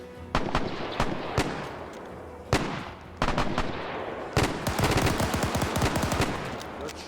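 Gunfire in Arma 3 during a farmstead-clearing operation against emus: single shots, then a sustained rattling volley of rapid reports, loud and fairly close, with a short quieter pause between bursts.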